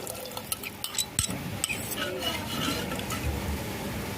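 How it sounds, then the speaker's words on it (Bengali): A spoon stirs agar agar water into coconut water, giving soft scraping and gentle liquid swishing with a few light clinks, close and fairly quiet. "এটা একটু নেড়ে চেড়ে দিব।"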